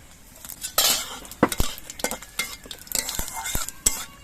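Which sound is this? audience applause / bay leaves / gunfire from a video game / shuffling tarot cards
bay leaves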